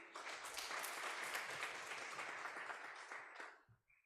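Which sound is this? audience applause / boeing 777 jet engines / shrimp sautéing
audience applause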